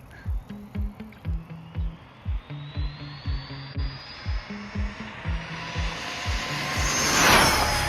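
A Rlaarlo DSK Roller RC car running on 6S power accelerates at full throttle, its motor whine rising steadily in pitch and growing louder toward the end over a repeating rhythmic thumping.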